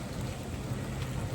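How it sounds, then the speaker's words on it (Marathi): Heavy rain pours down outdoors where travellers shelter under a tree, a dense, constant roar of water with a low rumble beneath it and no talking. "पूर्ण पाऊस आलेला आहे तुम्ही पाहू शकता."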